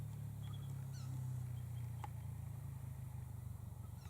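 A motorbike engine drones low and steady in the distance, a continuous rumble that swells slightly and fades, with a few faint bird chirps above it.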